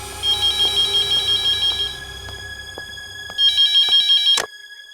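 A phone ringtone plays in repeated electronic trills, pauses, then rings again briefly before a sharp click cuts it off.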